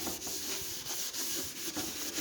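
A clean towel rubs back and forth across a stained, distressed wooden speaker cabinet in a steady, close-up swishing rhythm.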